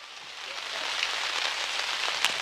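Steady rain patters down on an outdoor college softball field during a rain delay, a dense even hiss close to the microphone with scattered droplet ticks and no voices.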